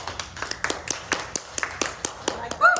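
An audience claps in a brisk, steady rhythm of about a dozen sharp, close claps, and a voice cuts in right at the end.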